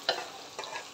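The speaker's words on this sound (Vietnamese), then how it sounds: "Rồi mình cho vô mình đảo trong vòng 1 phút" Raw green jackfruit pieces being stir-fried in a pan for a vegetarian Thai-style curry, with two short bursts of stirring and scraping over a light sizzle, close and fairly quiet.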